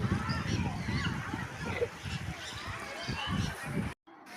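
Ducks swimming on water at a fish theme park quack and honk over a steady wash of outdoor noise, with a few voices mixed in, before the sound cuts out abruptly near the end.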